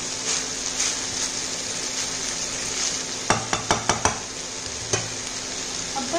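Spoon stirring vegetable Navratan pulao with spices in a pot, steady scraping and soft sizzling throughout, with a short burst of sharp clinks against the pan near the middle.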